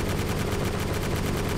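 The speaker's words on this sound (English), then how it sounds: "just start shooting machine guns down if you're around" Dense, continuous machine gun fire in the video game ArmA 2, loud and unbroken with rapid rhythmic bursts throughout, no talk.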